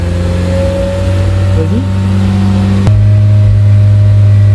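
Renault Clio 3 RS engine with a GT Performance exhaust held around 3000 rpm, a loud steady droning hum close by that shifts to a deeper, fuller tone partway through.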